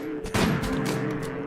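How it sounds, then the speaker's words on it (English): Gunfire in the colony-building video game Rimworld as a chicken is shot, a few sharp cracks over dense, busy game noise and a low background drone. "And chicken's been shot to death."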